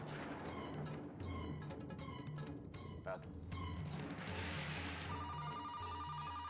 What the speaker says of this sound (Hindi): शायद मानस का फोन होगा।